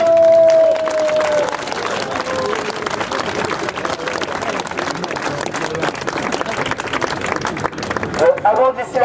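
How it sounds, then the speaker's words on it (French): An outdoor crowd at a Trocadéro rally breaks into sustained applause, thick and continuous, with scattered cheers and some talking mixed in. "Merci, monsieur Hollande, on l'applaudit."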